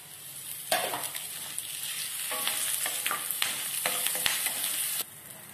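Curry leaves roast in a pan with a loud, continuous crackling sizzle as they drop in, with repeated scraping taps of a spoon stirring before the sound cuts off abruptly.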